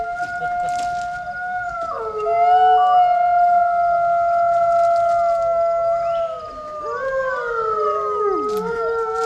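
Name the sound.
wolf howling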